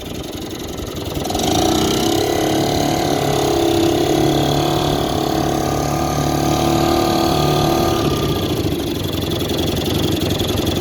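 A 1954 Clinton Model 40 air-cooled outboard motor runs steadily on a lake test, its engine drone starting after a second, holding a loud, even mid-pitched note, then easing off near the end.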